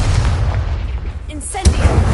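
A Confringo explosive spell fires in a Hogwarts video game, heard as short booming bursts and rumbles over busy game sound, with a voice speaking during the effect.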